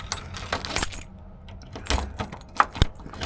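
Car keys jangle and click against the trunk lock of a 1967 Chevelle SS as different keys are tried, with irregular metallic rattles, scrapes and a few sharp taps up close.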